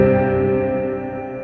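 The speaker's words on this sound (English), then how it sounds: "the reverb's immediately going to start playing back to you when you hit the note" An electric guitar note rings through an Old Blood Noise Endeavors reverb pedal, a sustained tone with a smooth reverberant wash that slowly fades over a moment.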